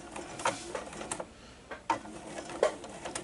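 A sewing machine running short bursts while backstitching a seam, quiet rapid ticking and clicking in brief spurts separated by pauses, heard close up.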